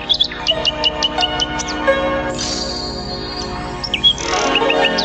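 A nightingale on a children's story tape sings loud, rapid chirping trills, with ringing bell-like tones in between and a burst of warbling at the end.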